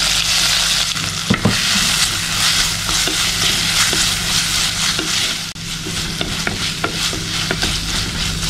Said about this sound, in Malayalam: ഇനി ഇതേ വെളിച്ചെണ്ണയിലേക്ക് തന്നെ നമ്മൾ ഈ ചതച്ച് വെച്ചിട്ടുള്ള കൂട്ടുണ്ടല്ലോ,